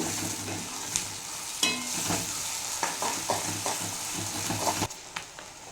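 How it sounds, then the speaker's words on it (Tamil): Chicken fries in foaming cold-pressed oil, a steady close sizzle with repeated scraping stir strokes and small clinks spread across the clip, fairly quiet overall and without speech. "இது செக்கில் ஆட்டின எண்ணெய் அப்படிங்கிறதுனால இந்த மாதிரி உங்களுக்கு நுரைச்சி வருது"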